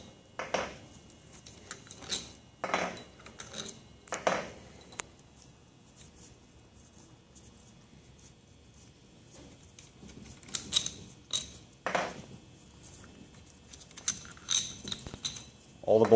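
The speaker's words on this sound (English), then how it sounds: "While you're removing these bolts, you will like to keep pressure on the head" Metal bolts are worked loose from the reagent head of a pump, giving scattered clinks and metallic taps in short bursts with quiet gaps between them, close to the listener.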